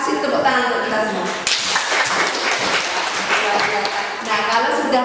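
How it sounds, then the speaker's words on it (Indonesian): Schoolchildren in an Indonesian classroom lesson applauding together, brisk clapping mixed with voices and chatter throughout, lifting abruptly partway through. "Kasih tepuk tangan untuk kita semua."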